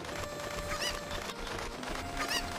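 A chicken in The Legend of Zelda: Ocarina of Time clucks in two short bursts about a second and a half apart, faint game sounds on their own with no talking.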